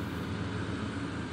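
A truck engine strains up a ramp in Construction Simulator 3, producing a brief, steady low drone with a humming, harmonic texture. It is moderately loud and continuous, with no voices.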